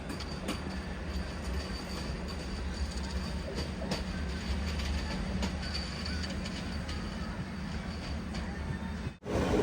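The Kannur to Alappuzha Executive Express rolls along the track with a steady, loud, continuous rumble and faint wheel squeal, cutting off sharply near the end.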